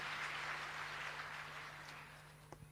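A church congregation applauds, a faint wash of clapping that fades gradually, with a steady low electrical hum underneath and a couple of sharper taps at the end.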